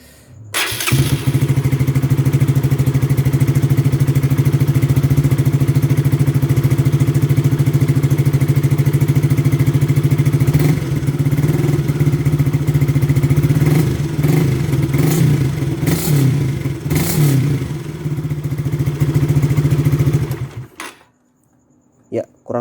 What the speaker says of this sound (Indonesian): Nah untuk knalpot setelah diganti kurang lebih suaranya seperti ini.